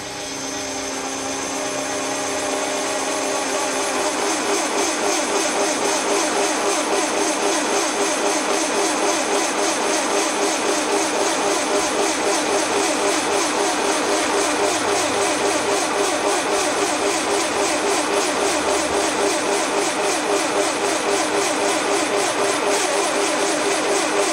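Scheppach DP55 benchtop drill press running steadily at low speed, a continuous whining motor hum with a dense tonal drone that stays loud and even throughout, with no one talking.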